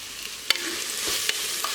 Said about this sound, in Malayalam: പച്ചമണം മാറുന്ന വരെ നന്നായിട്ടൊന്ന് വഴറ്റി കൊടുക്കുക.